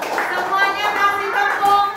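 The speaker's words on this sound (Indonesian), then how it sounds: "Oke, tepuk tangan dulu." Children clapping their hands together in a classroom, a short burst of scattered claps mixed with young voices chattering.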